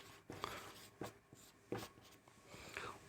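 Pen or chalk writing out a geometry proof about a circle theorem in a quiet room, with four or five separate bursts of scratchy strokes and short pauses between them, no talking.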